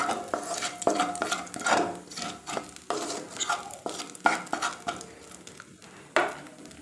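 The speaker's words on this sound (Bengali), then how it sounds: "এটা দিয়ে দেওয়ার পরে একটু নাড়াচাড়া করে নেব" Whole cumin seeds stirred in hot oil in a pan, a rapid run of close spatula scrapes and taps over a faint sizzle, with no talking.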